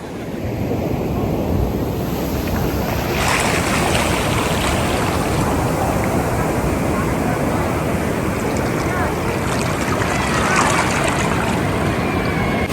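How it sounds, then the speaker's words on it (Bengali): Big sea waves surging onto Puri beach, a loud continuous roar of surf with heavy wind buffeting the microphone, the rush swelling after the first few seconds and holding strong throughout. "দেখো ঢেউটা দেখো, জাস্ট কি বিশাল ঢেউ"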